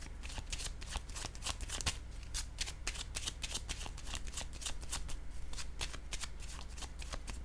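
Playing cards shuffled by hand, rapid riffling and flicking bursts in quick repeated strokes, close and crisp, continuing steadily throughout.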